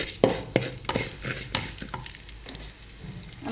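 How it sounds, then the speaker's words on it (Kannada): Urad dal fries in oil in a pan while a spoon stirs it, giving a steady low sizzle broken by sharp scrapes and taps of metal at an irregular pace, close by with no voices. "ಒಂದು ಚಮಚ ಉದ್ದಿನ ಬೇಳೆ ಸ್ವಲ್ಪ ಫ್ರೈ ಮಾಡ್ಕೊಳ್ಳಿ"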